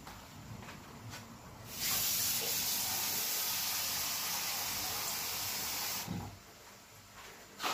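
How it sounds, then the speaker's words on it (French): Water pours into a pork trotter broth mixture in a pot, a loud, steady hissing rush lasting about four seconds, framed by quieter kitchen noise before and after. "Et à ce mélange, je vais rajouter de l'eau."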